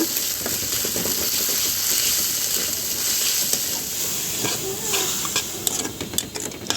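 Hot oil sizzles steadily in a pan after onions go in, a continuous bright hiss close by, dotted with small pops and faint clinks near the end.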